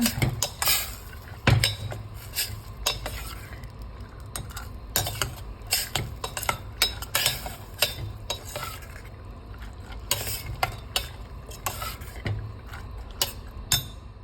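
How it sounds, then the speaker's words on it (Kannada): Soybean curry fries in a pan while a utensil stirs and scrapes it, giving repeated sharp clinks and scrapes over a soft continuous sizzle, close and fairly loud. "ಒಂದು ನಿಮಿಷ ಇದನ್ನು ಫ್ರೈ ಮಾಡ್ಕೊಳ್ಳೋಣ"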